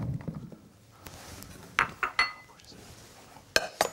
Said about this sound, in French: on va mettre nos châtaignes dans la casserole.